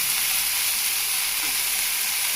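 Chopped tomatoes sizzle and fry in a hot pan for a tomato curry, giving a steady, bright hiss that stays even and continuous throughout with no talking.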